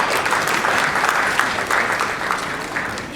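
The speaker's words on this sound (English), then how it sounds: "A round of applause for him," Lively applause at a 60th anniversary celebration party for a senior partner, a steady crowd of hands clapping at close range for a few seconds with a few sharper claps standing out.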